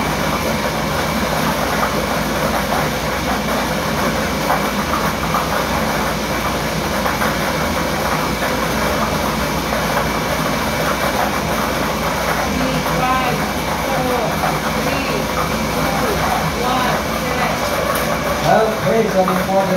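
An STL lottery draw machine churns its balls in a continuous rumbling, rattling whir that runs steadily and loudly throughout, with a voice audible at times over it.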